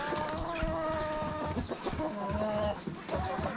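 Brahma hens clucking steadily in a coop, with overlapping soft calls and a few higher crowing notes, close and fairly loud with no talk.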